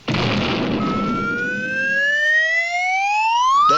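A volunteer fire department's fire engine in a cartoon sets off with a short burst of noise, then its wailing siren climbs steadily in pitch, loud and close with no talk.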